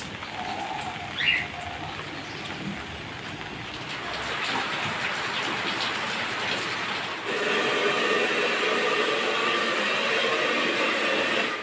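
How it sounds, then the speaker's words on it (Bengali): Steady rain falling outdoors, a continuous soft hiss that grows slightly louder partway through, heard at a moderate distance with no talking. "বাইরে আবার বৃষ্টি শুরু হয়ে গেছে"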